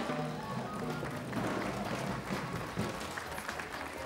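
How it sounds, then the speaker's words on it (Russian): A studio audience on a Russian Lotto television draw show applauds, steady clapping under a busy background of music and room noise, heard at low level. "Мы аплодируем всем, кто играл и выиграл"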